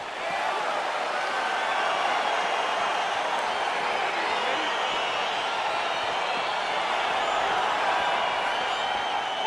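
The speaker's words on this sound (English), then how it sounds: "crowd getting excited as this fight gets underway" Steady arena crowd noise from the video game UFC 4, an even, moderately distant murmur and cheer as a fight gets underway, continuous throughout with no distinct peaks.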